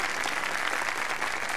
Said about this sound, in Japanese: こちらのお客様にも拍手を。